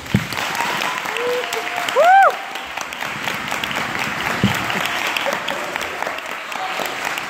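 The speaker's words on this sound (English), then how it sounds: "give them a big round of applause" An audience at a hypnotist show with high school graduates applauds, a sustained wash of clapping from a crowd, with a brief whistle or cheer rising above it.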